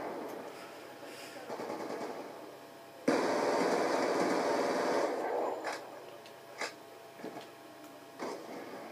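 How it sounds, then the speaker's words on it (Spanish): Automatic weapon fire in Call of Duty Black Ops 2 on Xbox, a sustained burst after quieter game ambience, followed by scattered single shots at moderate loudness. "Estaba disparando al de mi equipo"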